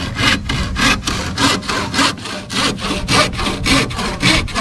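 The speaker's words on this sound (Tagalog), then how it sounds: "So, lagariin na lang." A handsaw cuts through wood during boat-building work, a loud, close, rhythmic rasp of about a dozen even back-and-forth strokes with no talking.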